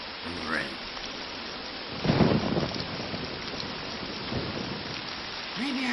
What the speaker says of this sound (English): It's fucking rain. I'm fucking soaked.